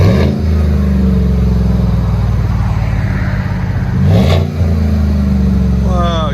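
A 2017 GMC Sierra Z/71 with a 5.3L V8 and a Proven Ground cat-back exhaust rumbles at a deep, loud idle close by, then swells in one quick rev and climbs again near the end, on a cold day.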